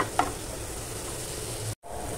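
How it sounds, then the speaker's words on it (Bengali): Garlic frying slowly in melted butter gives a continuous close sizzle and fine crackle, with one small click near the start and a brief drop to silence near the end. "রসুনটা আমার বেশ খানিকটা ভাজা ভাজা হয়ে গেছে"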